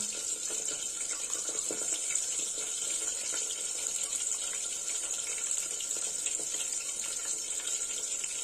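Water runs steadily into a bowl of ground spice paste while cooking a fish-head and bottle gourd curry, a continuous soft gush with faint mixing clinks and no talk.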